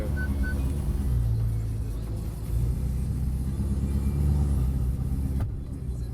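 Audi R8 V8 rolling along with cold tyres, a steady low engine rumble and road roar swelling and easing, with a brief knock near the end.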